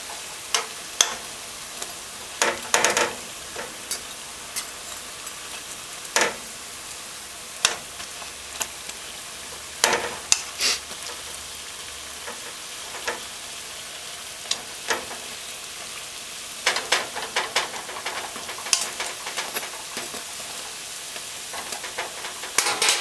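Festival dumplings fry in hot oil over a stove on high heat, a continuous close crackling sizzle dotted with sharp pops and spatters, some in quick clusters, with no talking.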